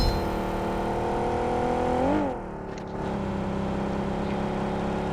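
A vehicle engine in the BGMI (PUBG Mobile) video game drones steadily, swells briefly in a rising and falling rev, then drops away before a lower hum returns.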